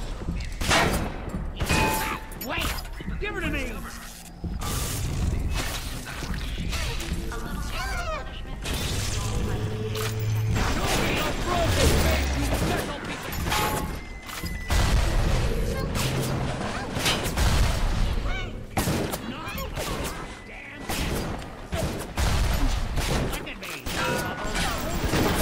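Enemy gunfire crackles in bursts through a BioShock playthrough, with repeated sharp shots and crashes over about twenty-five seconds, mixed with game sound and occasional talk.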